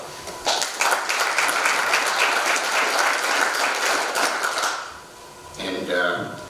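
Clapping at a town council inaugural meeting: a crowd applauds loudly and steadily for several seconds, then it fades out and a voice begins speaking.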